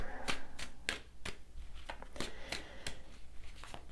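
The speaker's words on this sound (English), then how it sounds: "I'll just stay quiet for a minute while I get all 3 cards out" Tarot cards being drawn and handled, with a quick series of crisp snaps and soft shuffling flicks, close and fairly quiet, without any talking.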